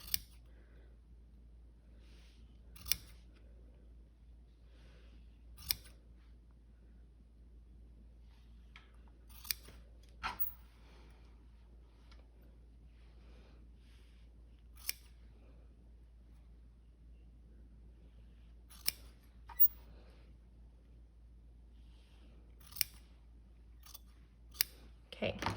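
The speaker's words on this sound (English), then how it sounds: "get your shears so you can see all of that hair is down below my scissors, and I'm only cutting that backing" Shears snip through the fabric backing of faux fur, sparse crisp cuts at irregular intervals of a few seconds against a quiet room.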